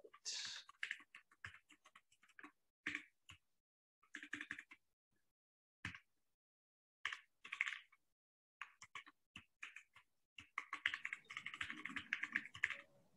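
A computer keyboard clatters in quick irregular bursts of keystrokes separated by pauses, close and fairly quiet, building to a denser flurry of typing at the end with no talk.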